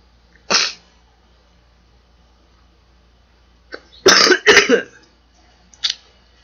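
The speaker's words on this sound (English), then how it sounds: "Goddamn cough." A person coughs in sharp bursts: one isolated cough, then a quick cluster of two or three loud coughs a few seconds later, and a final short cough, with quiet gaps between.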